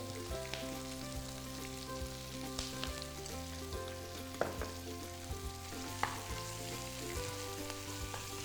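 Roasted chili paste fries in a pan while chicken is stir-fried with it. A soft, steady sizzle runs throughout, broken by occasional light scraping and tapping from stirring, and nobody speaks.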